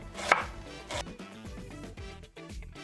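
A knife cuts an onion into thin slices on a cutting board in a tiny kitchen for ceviche, a sharp first chop followed by quick, rhythmic slicing taps, close and clear with no talk.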